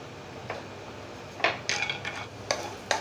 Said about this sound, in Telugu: ఈ జీడిపప్పు కొంచెం ఫ్రై చేసుకోవాలండి